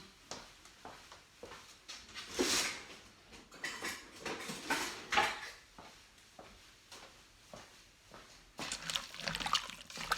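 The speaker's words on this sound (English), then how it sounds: "Let me stir it a little." Butternut squash soup is stirred inside an Instant Pot, with soft, irregular liquid sloshes and spoon scrapes, quiet and close, coming in uneven bursts.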